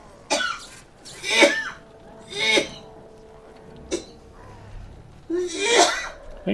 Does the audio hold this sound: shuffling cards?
no